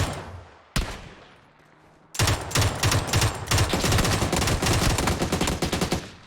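An MK47 Mutant rifle fires in PUBG: one sharp shot, a pause, then a long run of loud, rapid bursts cracking close by.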